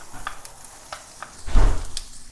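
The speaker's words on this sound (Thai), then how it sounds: "แล้วก็ผัดต่อไปอีกหน่อยครับ ให้มันเป็น คาราเมลไลซ์เพื่อดึงความหวานของหอมออกมาครับผม" Onions being stir-fried in a pan for gyudon, a faint sizzle broken by a few light scrapes and stirs and one louder, brief clatter of the utensil near the end.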